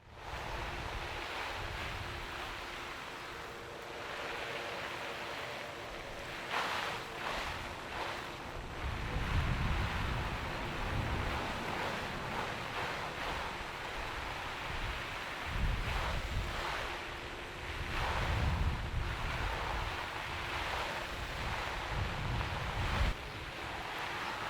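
Garden hose spraying water over zipped-up Sitka Dew Point Gore-Tex rain gear, a steady broadband rushing hiss that swells and pulses as the stream moves across the fabric, with surges around the middle and end and no talking.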